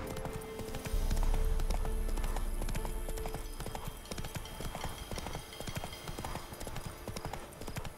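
The horse Roach galloping in The Witcher 3: Wild Hunt, a rapid steady clip-clop of hooves close by, slightly louder at the start, with occasional game sounds beneath.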